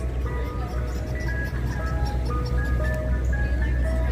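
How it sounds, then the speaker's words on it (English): A New York City ice cream truck plays its tinkling, repetitive melody near Central Park, steady and fairly close, over a low hum of street traffic and crowd noise. "Our goal today is to enjoy the sounds of ice cream truck."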